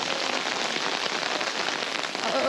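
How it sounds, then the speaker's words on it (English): Steady rain patters densely on surfaces nearby, a continuous broadband hiss with no gaps, fairly loud and unbroken. "it keeps raining and raining and raining."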